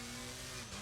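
Race car engine in Assetto Corsa Competizione on the Kyalami circuit, a steady loud drone under hard braking and acceleration, close and continuous with no voices.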